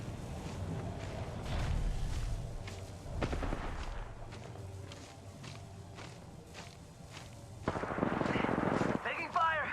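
Apex Legends gunfire in a ranked match: bursts of rapid shots and heavier booming blasts come in clusters, mixed with footsteps and game effects, and a player talks over parts of it.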